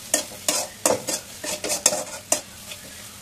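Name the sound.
onions and garlic frying with turmeric and chili powder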